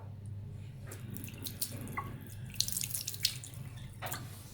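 A hotel bathroom sink tap at Thames Valley Khao Yai runs water into the basin, a close, steady splashing stream with a few louder gushes and drips as the flow shifts.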